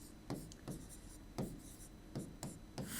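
Marker or chalk scratches across a classroom board in short strokes and taps while protein names are written during a blood lesson, close and fairly quiet with no talking.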